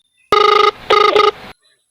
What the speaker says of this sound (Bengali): আমি চেয়ারম্যানের এখনই ফোন দিতেছি